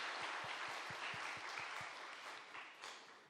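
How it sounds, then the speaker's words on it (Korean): A church congregation claps together in steady applause, a dense wash of hands with a few sharper claps standing out, fading slightly toward the end. "우리 감사하다고 우리 하나님께 영광의 박수를 올려드리실까요?"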